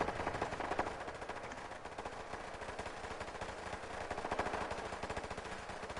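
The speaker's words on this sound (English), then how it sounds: "Because I added all these automated laser turrets." Automated laser turrets in Fallout 4 fire in a dense, continuous rapid stream of crackling shots with no pauses, holding a steady level throughout and with no voices.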